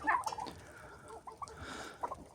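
Turkeys gobbling nearby, a loud rattling gobble at the start followed by softer gobbles and clucks among other birds.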